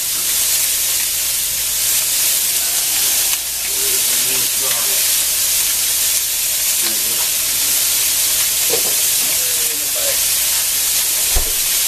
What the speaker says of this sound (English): Got the sausage going in the cast iron skillet.